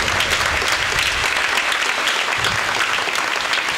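A church congregation at a Holy Thursday Mass claps loudly for its priests, a dense, steady burst of many hands filling the space throughout, with no voices standing out.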